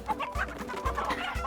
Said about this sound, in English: the nearby chickens all frantically run in the opposite direction